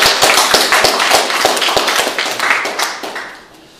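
Applause from a small audience at an art exhibition opening in Insadong, brisk, uneven hand claps close by that run for a few seconds before trailing off.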